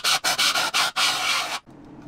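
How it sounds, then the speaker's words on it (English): A power drill running in reverse cuts in several short, harsh grinding bursts. The last burst runs longer, then the drill cuts off into a quiet room. "change the drill to reverse,"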